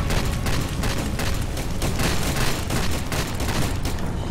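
Dense, continuous gunfire and booming blasts in the shooter game Far Cry 2, loud and unbroken throughout, with no talk over it.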